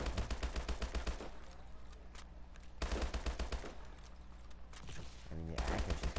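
Automatic bursts from an HBRA-3 assault rifle in a shooter game crackle in rapid, evenly spaced shots, a long burst followed by quieter gaps, another burst mid-clip and a final burst at the end.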